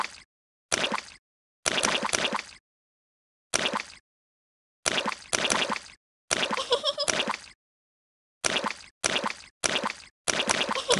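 Cartoon pigs and a rabbit jumping in muddy puddles give a run of loud, close, wet splashes, each a short broadband burst. They come in an irregular rhythm with silent pauses between.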